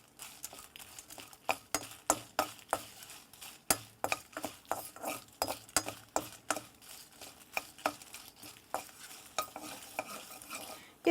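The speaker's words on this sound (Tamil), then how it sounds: "இது நல்லா கொஞ்சம் காந்துற வரைக்கும் நம்ம இதை வறுத்து எடுக்கணும்." Kashmiri red chillies dry-roasting in a little oil for sambar powder, stirred in a pan with a steady run of sharp, close scraping strokes over a faint sizzle; no voices.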